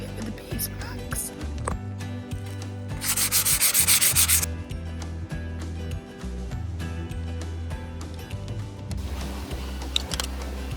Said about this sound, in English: now I'm just going to sand the top just down a little bit